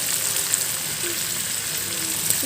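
Bay leaf and dried red chillies fry in hot oil with a steady, close sizzle and faint crackle, a few soft clinks of a utensil rising briefly above it.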